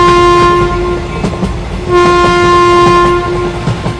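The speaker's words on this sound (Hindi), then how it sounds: "तभी थोड़ी देर में इन लोगों की ट्रेन अगले स्टेशन पे आ जाती है" A train pulling into a railway station sounds its horn in two long, loud, sustained blasts over a steady rumble of rolling wheels.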